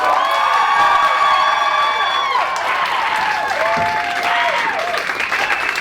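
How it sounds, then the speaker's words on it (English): A theatre audience at a Yale production applauds and cheers loudly, with whoops and high shouts ringing over dense clapping that carries on throughout. "Another round of applause for him."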